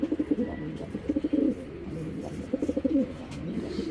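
A pair of racing pigeons, one golden-eyed and one green-eyed, coo near at hand in repeated low throaty bursts, pausing briefly between phrases, with light background rustle.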